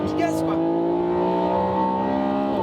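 A Ferrari 599 GTO's engine held at half throttle, a steady layered drone with strong harmonics running the whole time, loud and close, with a voice talking over it.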